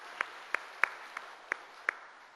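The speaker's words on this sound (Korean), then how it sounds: "우리 하나님께 영광의 박수 올려드리겠습니다" A church congregation claps to glorify God, though only a handful of sharp, separate claps come through, faint and spaced unevenly over a quiet background.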